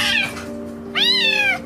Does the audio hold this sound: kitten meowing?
yes